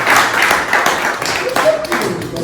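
A crowd at a gathering of Nigerians in Belgium claps loudly and continuously, a dense patter of many hands close by, while a voice speaks over part of it.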